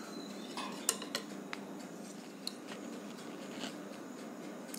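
Eggless chocolate cake batter scraped from a bowl into a baking tin, with faint clinks and light taps of a spatula against the metal over quiet, steady background hiss.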